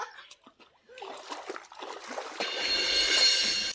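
Water splashing and sloshing while something is washed outdoors, starting in broken spurts and building into a steady close pour, with a voice briefly heard early on.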